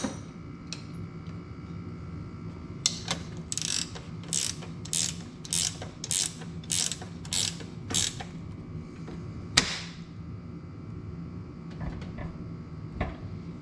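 Ratchet wrench with a 17 mm socket tightening a bolt on a Honda CT90 motorcycle suspension: a run of about ten even, close clicking bursts in steady rhythm, then a sharp single knock and a few faint clicks.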